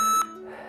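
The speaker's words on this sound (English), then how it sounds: "you wait for the buzzer." A workout circuit timer buzzer sounds a short, sharp electronic beep up close, cutting off abruptly after a fraction of a second into a quiet room tone.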